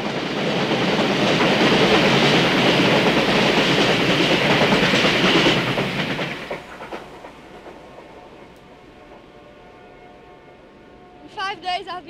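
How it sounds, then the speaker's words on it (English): A train roars past loudly at close range, its rumble and clatter fading away after several seconds. Voices follow faintly in the quiet. "Train."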